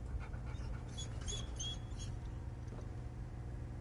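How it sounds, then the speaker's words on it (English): An abandoned puppy in the video game Hell is Us, with faint whimpering and high whines over a low steady hum in a house. "I found the poor pup whimpering alone in a house"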